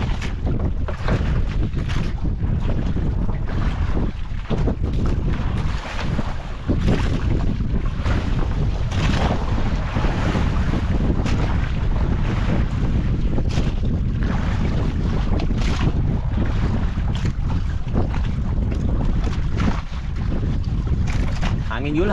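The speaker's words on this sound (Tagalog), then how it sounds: "Hangin yun, hangin." Steady, loud wind roars and buffets the microphone throughout, a constant rushing noise with no pauses.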